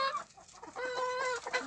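Hens pecking at horseradish leaves give a short burst of close, nasal clucks and drawn-out throaty calls, a few quick notes followed by a sustained warbling cackle, loud and alone.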